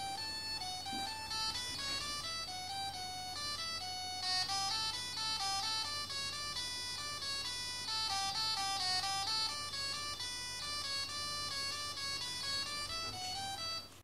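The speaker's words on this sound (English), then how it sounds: "that famous one was Canon in D by Pachelbel" Lego Mindstorms EV3 robot programmed in Scratch playing Pachelbel's Canon in D as thin, beeping electronic tones in a continuous ringtone-like melody, fairly faint over faint background hiss, with no talking.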